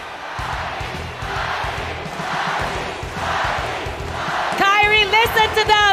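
Large esports arena crowd at a world championship grand final chanting a team name, a loud rhythmic roar of many voices in repeated waves, joined near the end by an amplified announcer talking over it.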